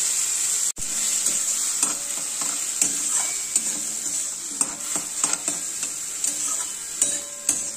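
Garlic and tomato paste fry in a pan with a constant bright sizzle, while a utensil scrapes and taps against the pan in irregular stirring strokes, close up and without talk.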